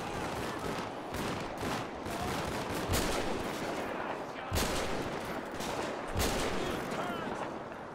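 Several loud, sharp gunshots fire at zombies in a modded GTA 5 apocalypse, separate cracks a second or so apart over a busy rattle of gunfire, with a voice speaking briefly.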